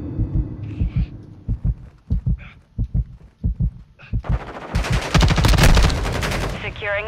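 Video game gunfire: sharp, rhythmic bursts of shots in quick succession, followed by a dense, loud volley near the end, with brief game voice lines mixed in.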